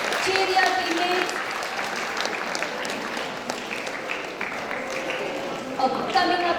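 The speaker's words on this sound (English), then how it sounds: "Audience, applause please." An audience at a school mathematics day event claps steadily for a team of students, a continuous patter of applause with a voice briefly heard over it.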